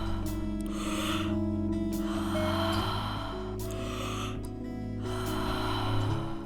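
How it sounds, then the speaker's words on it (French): Deep Wim Hof–style breathing: several long, forceful inhales and exhales follow one another at a steady pace, close up and audible over a low background hum. "Inspirez, expirez. Faites de belles respirations profondes."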